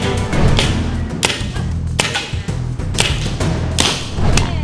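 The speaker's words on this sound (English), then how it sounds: "First time to use paintball" A paintball gun firing repeatedly up close, sharp snapping shots with dull thuds at irregular intervals, about ten in under five seconds.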